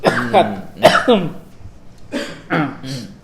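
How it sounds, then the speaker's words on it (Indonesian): Several harsh coughs come in two bursts, close to the microphone, with a short quiet gap between them. "Batuk dulu."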